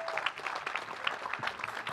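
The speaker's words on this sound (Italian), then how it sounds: "Un applauso per i 10 finalisti della Maker Faire di Roma." An audience applauds the ten finalists at Maker Faire Rome 2016, a steady, moderately loud patter of many hands clapping.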